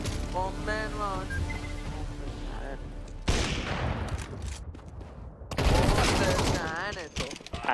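Video game gunfire during a headshot moment, bursts of rapid shots in two loud clusters, with a player's excited voice heard between and over the firing.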